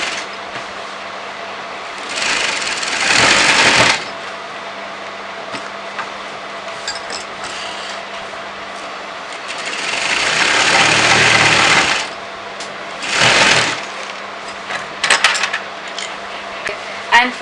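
Sewing machine top stitching a kurti shawl collar, a steady whirring hum that swells into louder bursts of fast stitching several times, close-up with faint mechanical clatter.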